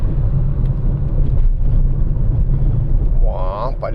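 A truck rolling along a city street in Buenos Aires, with a low, steady engine rumble close by, and a short bright squeal near the end.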